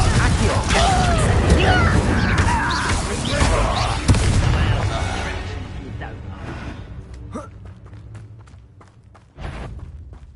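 Confringo spell blasts booming loud and dense in Hogwarts Legacy combat, thudding explosions that fade into a quieter tail before a final sharp hit.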